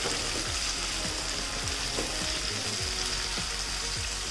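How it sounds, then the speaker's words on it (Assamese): Ground spice paste fries over a medium flame in a pan, giving a loud, continuous sizzle with repeated scraping strokes of stirring close by. "এইখিনি ধুনীয়াকৈ লৰাই দিম"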